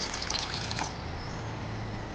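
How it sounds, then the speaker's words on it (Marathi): Water splashes and trickles into poha dosa batter for about a second, then fades to a low steady hiss. "आता मी याच्यात आणखीन पाणी घालणार आहे"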